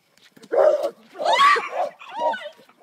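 A dog lets out three loud, close vocal bursts indoors: yipping, whining barks with a pitched, whimpering edge, separated by short pauses.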